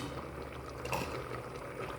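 A vegan pot roast simmers in a pot, giving a steady, soft bubbling and hiss that stays faint and even, with no talking.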